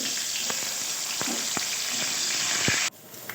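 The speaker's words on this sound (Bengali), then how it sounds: "ভাজলে ভালো সেদ্ধ হবে না গাছটা অল্প একটু ভাজবো হালকা করে" Leafy greens lightly frying in a pan for a hilsa fish sour curry with elephant apple give a steady close sizzle with a few sharp stirring clicks, before the sizzle drops away abruptly near the end.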